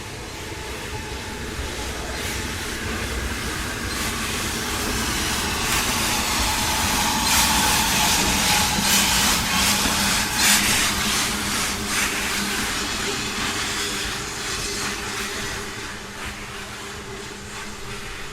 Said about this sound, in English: the locomotive is ready to go, on its way down to Alresford to pick up the first train of the day